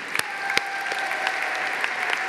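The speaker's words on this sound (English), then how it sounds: "please give a warm round of applause for the Champions of the Earth" Audience at the Champions of the Earth 2019 awards ceremony applauding the laureates, a steady, even wash of many hands clapping in a large hall, with a few sharper close claps standing out near the start.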